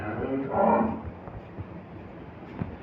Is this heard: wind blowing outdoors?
no